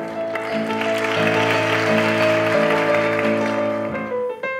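A crowd claps steadily for several seconds over a constant droning tone, then the applause thins out and stops near the end.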